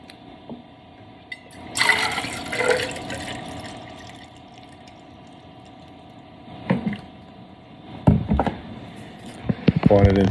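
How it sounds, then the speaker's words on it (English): Colonoscopy prep liquid poured into a favorite cup in a break room, heard as a couple of short splashing, trickling bursts separated by quieter stretches with background hum and some handling noise. "pouring it into my favorite cup"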